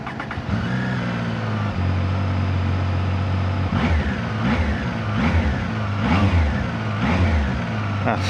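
A Zontes ZT 703F adventure motorcycle engine idles steadily, then revs in a series of rising and falling blips, close and loud, with a voice briefly heard.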